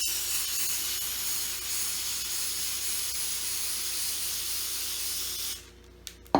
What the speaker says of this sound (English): we're going to spray that in a Ziploc bag